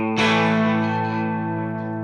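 An electric guitar chord through a crunch amp preset in the AmpliTube iPad app is struck and rings out with crunchy overdrive, sustaining loudly and slowly fading.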